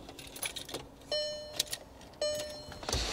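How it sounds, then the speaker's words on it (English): Keys jangle and click as the key goes into the ignition of a VW Golf GTI MK6, a few short metallic rattles and chimes, fairly quiet and close, with no talking. "Let me just get the key in."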